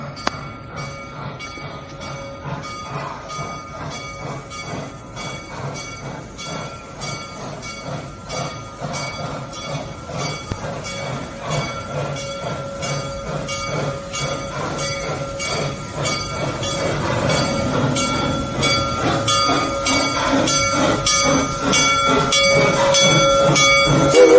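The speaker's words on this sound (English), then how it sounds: "So this crossing doesn't work, but here comes the train anyway." A train rolls steadily past a level crossing whose signals don't work, wheels clacking in a rapid rhythm that grows louder and closer, with a faint ringing and no talking.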